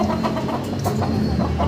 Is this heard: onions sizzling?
no